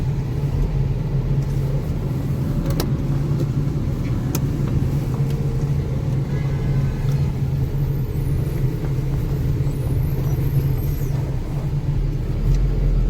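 A truck loaded with powder, travelling from Rajasthan to Odisha, rolls over a broken road with a steady heavy engine rumble and road noise throughout, occasional knocks and rattles over the rough surface, no voices.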